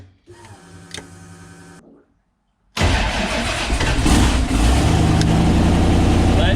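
A twin-turbo Toyota Corolla built to 700 hp sits quietly with a faint tone, goes silent for a moment, then cranks and fires into a loud, steady, rumbling idle that fills the rest of the clip.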